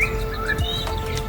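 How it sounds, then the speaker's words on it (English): A blackbird sings on a golf course in a brief, clear whistled phrase of rising and falling notes, moderately near, over a steady low hum of outdoor background. "Wonderful blackbird singing"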